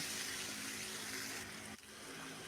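Water pours in a steady, soft gushing stream into a pot of browned pork and beef stock cubes for soup, then tapers off briefly near the end, with no talking.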